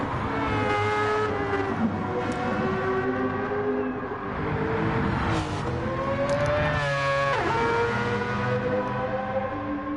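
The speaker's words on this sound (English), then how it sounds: "Lovely engine sound from Grasshopper's car in the RX" Rallycross race car engine in a PS4 racing game, a loud, continuous high-revving whine that climbs and drops through gear changes, alone with no talk.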